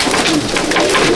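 Pigeons coo inside a loft in Akra, Kolkata, with soft, throaty, repeated calls that are close and fairly loud and overlap one another.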